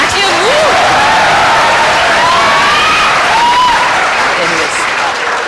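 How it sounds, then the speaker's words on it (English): An audience at a podcast session applauding and cheering, a dense continuous wash of clapping with scattered whoops and voices over the top, loud and close throughout. "Please, we need a round of applause."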